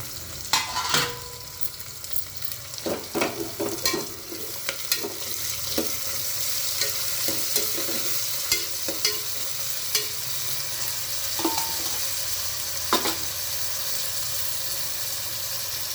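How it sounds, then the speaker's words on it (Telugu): Onions frying in oil in a pan until browning, with curry leaves and coriander nearby; a steady sizzle runs throughout, broken by repeated clinks and scrapes of a spoon stirring against the pan, with no talking. "ఉల్లిగడ్డ కొంచెం బ్రౌన్ కలర్ వచ్చేదాకా మగ్గనిద్దాం."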